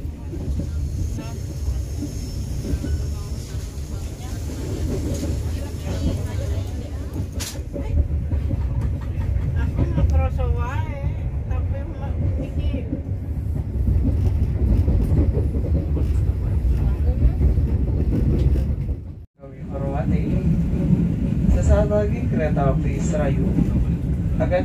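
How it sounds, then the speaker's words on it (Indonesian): Serayu passenger train departing Cipendei station in Indonesia, a steady loud rumble of rolling stock and engine running throughout, with a brief dropout near the end, under a station announcer's voice. "Kereta api Serayu diberangkatkan dari stasiun Cipendei."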